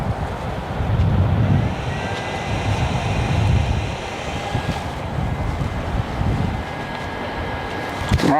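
A Jetstar airliner flies at Gold Coast Airport, a broad jet roar with a faint whine, heard from a distance under gusts of wind noise.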